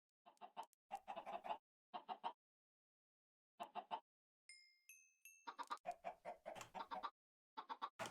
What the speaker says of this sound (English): Let's breed the chickens up while we're here as well.